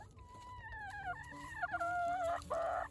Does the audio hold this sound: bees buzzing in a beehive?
no